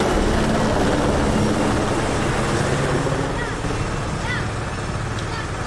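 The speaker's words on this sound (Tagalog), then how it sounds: "Kinailangan ng helicopter para magsalok ng tubig at isaboy sa mga nagliliyab na bahay." Helicopter scooping water to fight a large house fire in a dense neighborhood, a loud continuous rotor drone and engine roar filling the air, with a voice talking over it.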